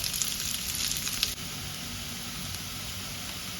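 Onions sautéing in butter for fried paneer butter masala crackle in a pan with a steady sizzle, briefly louder with a few pops before settling into a softer hiss.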